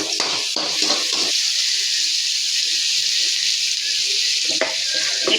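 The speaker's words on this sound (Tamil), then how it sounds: "வெங்காயத்தை நல்லா செவக்க விடணும்" Onions for river crab gravy fry in a pan with a steady, close sizzle throughout. A few stirring scrapes come early on and once near the end.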